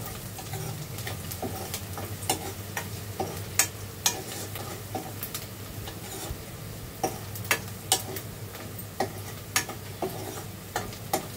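Onion fries softly in a pan while a spoon stirs and taps against the metal in irregular clicks, close and moderately quiet over a low steady sizzle.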